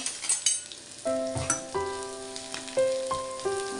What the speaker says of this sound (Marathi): कांदा घालून घ्यायचा आहे चांगला परतून घ्यायचा आपल्याला